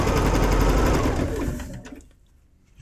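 A sewing machine stitches a quarter-inch seam on a Piazza Clue 8 quilt block in cotton fabric, running in a fast, close, steady whir for over a second before slowing and falling nearly silent.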